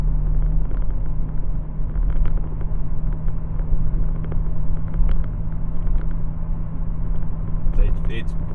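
A car fitted with an axle-back exhaust cruises in sixth gear at about 60 km/h on a smooth new road, giving a steady low droning rumble, with someone talking over it throughout.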